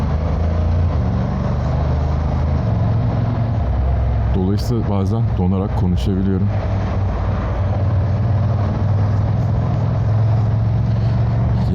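Morning Istanbul traffic rolls past a Honda NC750X motorcycle in a constant loud engine and wind roar, with a rider talking briefly midway.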